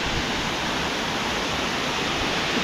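Can-umantad Falls, the tallest waterfall in Bohol, Philippines, gives a steady, dense roar of falling water heard close, with no voices.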